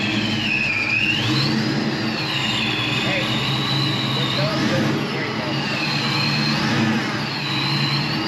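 A 1987 Mustang GT convertible's engine with a Vortec supercharger runs loud and steady nearby, a high supercharger whine sweeping up and down over the engine's rumble.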